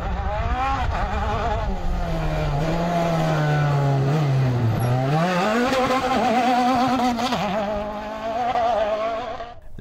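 A Fouquet Honda rally car races on an off-road rally course, its engine loud and close, rising and falling in pitch as it revs hard and shifts, with a continuous roar throughout.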